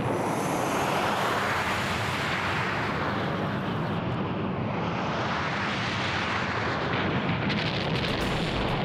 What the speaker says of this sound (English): Oh, what lovely fireworks!